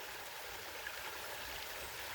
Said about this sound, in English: And like this creek you're looking at,